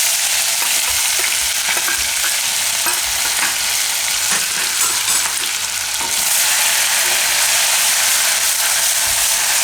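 Ginger, chilli and garlic fry in a hot pan with cumin, a loud continuous sizzle broken by repeated scraping and clicking strokes of a stirring spoon, with no talk.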